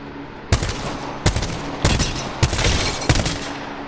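Gunfire in Apex Legends from a weapon fitted with the Double Tap hop-up, loud bursts of paired shots repeating in quick rhythm roughly every half second to second, close and dominant with no talk.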